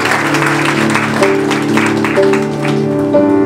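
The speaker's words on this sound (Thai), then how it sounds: "ผมขอให้เราปรบมือต้อนรับนะครับ" Applause welcoming the groom at a Christian wedding ceremony, a steady wash of clapping with sustained music tones running underneath throughout.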